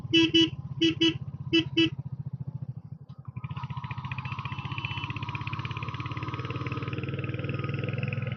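A motorcycle horn toots in quick short bursts, three pairs of beeps, followed by the engine revving steadily as it climbs a hill road in Uttarakhand.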